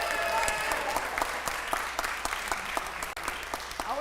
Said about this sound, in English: I was clapping for you